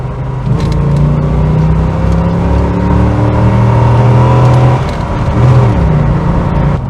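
A Chevrolet Corvette C4 with a 5.7-litre V8 revs hard under acceleration, its loud engine note climbing steadily in pitch through first gear, then dipping briefly at a shift before rising again.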